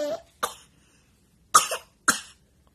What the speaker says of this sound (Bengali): কাশি উঠে গেল